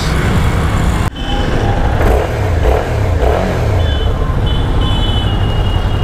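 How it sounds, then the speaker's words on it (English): A Suzuki V-Strom 650 motorcycle engine revving at close range, a loud sustained exhaust note that rises and falls, with a sharp clunk early on and no talking. "Nice exhaust note, really wide"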